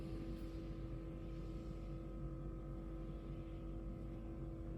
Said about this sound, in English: I can hear the cooling fan is operating.